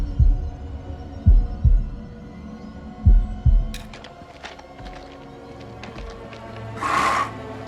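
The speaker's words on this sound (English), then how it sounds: "They never only give you one heartbeat section." Game heartbeat from House of Ashes: heavy, low thumping double beats repeating at a slow steady pace, loud and close, over a dark hum, then fading into scattered clicks and a brief bright swell near the end.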